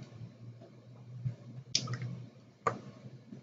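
A couple of soft computer mouse clicks close by over a low hum, one faint tap followed by two distinct clicks about a second apart, no talking.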